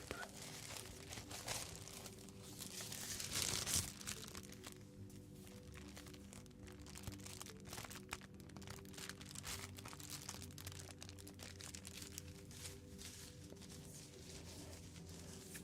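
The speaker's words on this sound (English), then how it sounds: "It's a piece of tissue paper, by the way." Tissue paper crinkles in a quiet, close ASMR setting: one brief, crisp rustling burst stands out against a soft, steady background hum.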